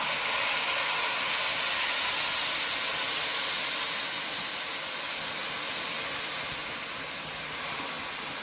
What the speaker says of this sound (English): I'm going to just cover that and allow to steam.